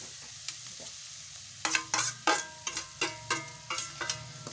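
Churumuri, puffed rice, is being mixed with powdered sugar in a pan over a gas flame. Quiet at first, then a run of crisp scraping and stirring strokes, about eight in a row, close by with no one speaking.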